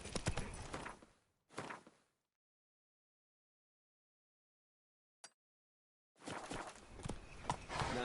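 A horse trots in The Witcher 3 on PS5, hoofbeats coming in short, close bursts separated by a long stretch of silence, then resuming steadily toward the end.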